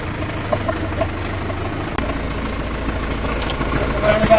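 Tractor with its multi-speed PTO engaged in forward gear runs at a steady engine rumble, close and moderately loud. Someone talks over it throughout.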